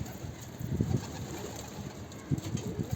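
Soft, low cooing of domestic pigeons repeats in bursts against a steady background hiss, fairly faint and with no voices.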